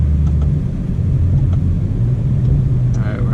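A BMW F30 accelerating from a 20 roll in second gear, a loud low engine rumble heard from inside the cabin, steady and droning, with a voice briefly over it near the end.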